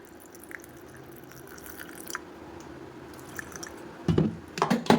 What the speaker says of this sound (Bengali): ওটস আনা হয়েছে তো এটাই একটুখানি অল্প পরিমাণে একটুখানি জল দিয়ে পেস্ট করে নেবো হালকা করে